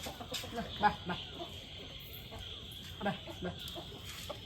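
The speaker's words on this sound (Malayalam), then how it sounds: "അവിടെ കുറേ കോഴികളുണ്ട്, നോക്കുക കേട്ടോ." Chickens cluck intermittently in the background, short scattered calls over a steady outdoor hum.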